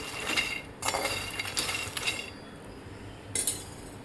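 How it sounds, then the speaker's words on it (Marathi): Makhana dry-roasted in a pan without ghee, with repeated scraping and clinking of a utensil against the pan in short irregular bursts separated by quieter gaps, close and moderately loud. "अजून थोडंसं ह्याला भाजून घेते, बिना तुपाचं भाजून घेतलेलं आहे मी"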